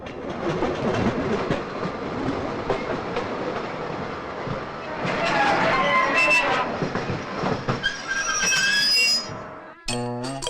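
A train rolls along the rails with steady rumbling and clickety-clack, some metallic clinks near the end; faint voices at times.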